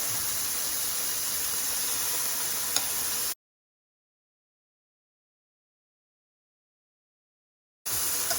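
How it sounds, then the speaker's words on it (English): Steak strips sear in a hot pan with a steady, close hiss, cut by a few seconds of complete silence before the sizzle returns. "Time to flip over our steak strips. Nicely seared on the outside."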